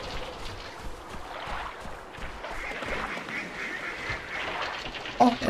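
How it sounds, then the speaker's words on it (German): Ducks quack in the 2003 video game XIII, with a few soft calls over a steady murmur of water and game ambience that ends in a brief louder burst. "Oh, Enten, cool."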